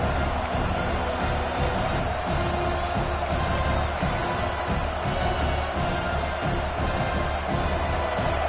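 Steady stadium crowd roar from an NCAA 26 football video game, Arkansas versus Tennessee, a dense continuous wash of cheering with occasional swells and sharp bursts throughout.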